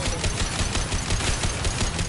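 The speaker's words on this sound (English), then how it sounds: "He's gunning down his own crew to keep control?" Dense, continuous gunfire fills a Mass Effect 2 battle, a loud unbroken rattle of rapid shots with no pauses.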